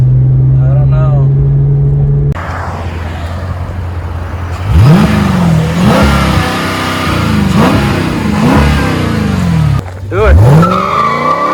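Porsche 997 fitted with a Mopar 392 HEMI V8 on a canyon road, loud close engine revving in repeated rising and falling bursts, with people talking over it.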